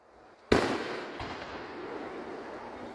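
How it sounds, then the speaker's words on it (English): Fireworks display at the VA park in Clarksburg, West Virginia: one sharp loud burst followed by a long crackling, rumbling tail and a fainter second pop, heard from a distance with no voices. "a fireworks display in Clarksburg, West Virginia"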